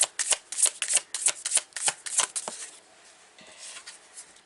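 A deck of tarot cards is shuffled by hand in quick riffling bursts, crisp close flutters repeating for a few seconds before trailing off into quieter handling.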